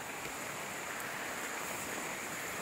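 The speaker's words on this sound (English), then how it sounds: "Our canal, there's also flowing a lot of water." Water rushing through an overflowing irrigation canal at an off-grid homestead, a steady broadband roar of flowing water, close and continuous with no pauses or voices.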